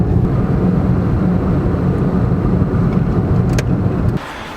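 Car driving around Arthur's Seat, the big hill in the middle of Edinburgh, a steady low rumble of engine and road noise with some wind buffeting, dropping away abruptly near the end.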